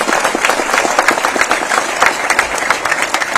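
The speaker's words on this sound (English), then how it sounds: "Give him a big round of applause" An audience applauds at a National Voters' Day event, with dense, steady clapping that fills the hall evenly for the whole stretch and no voices on top.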